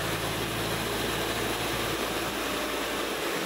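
Mitsubishi Grandis engine running during a Blackcore carbon-cleaning treatment, a steady, loud broadband drone with a low rumble that eases slightly partway through, no talk.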